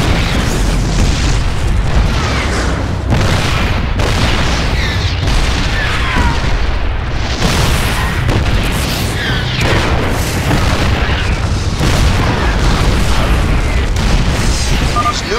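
Siege tanks in siege mode shelling Protoss photon cannons in StarCraft 2, a dense barrage of loud booming explosions and blasts layered with game effects, continuous throughout.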